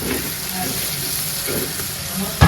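Fish frying in a pan in a Bengali village kitchen, a steady close sizzle with soft stirring scrapes and a sharper clatter near the end, no voices.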